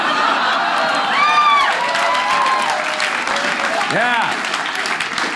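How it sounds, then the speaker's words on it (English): A comedy show audience breaks into sustained applause mixed with cheers and whoops, loud and steady throughout, with scattered shouts rising above the clapping. "Those are Republicans clapping."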